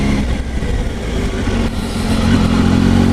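A 2019 Triumph Tiger 800 XR motorcycle engine drones steadily while riding, loud and close with a constant low rumble and a slight rise in revs near the end, wind noise mixed in.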